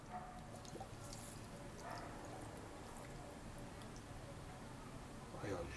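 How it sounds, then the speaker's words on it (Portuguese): Water poured into a jar of vegetable preserve, a faint trickling and dripping flow heard close by under a low voice. "Agora vamos completar com água,"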